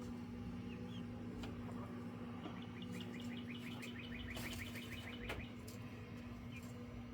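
Young chicks in a playpen give faint, quick runs of high chirps over a low, steady electrical hum, with a few louder peeps midway.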